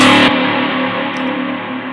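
Heavy riddim dubstep synth with added reverb, a loud, distorted, sustained bass-heavy tone that rings on with a reverberant tail, alone without voices.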